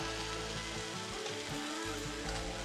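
Meat, cooked to about medium rare, searing loudly in a hot pan, with a dense, steady sizzle that holds for the whole moment and swells slightly near the end.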